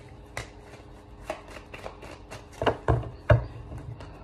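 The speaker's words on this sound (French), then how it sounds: "Archange Michael avec l'oracle des miroirs, 6 cartes, s'il vous plaît." Oracle cards being shuffled and drawn during a French-language tarot-style reading, giving a series of soft papery flicks and taps that grow louder toward the end, with no talking.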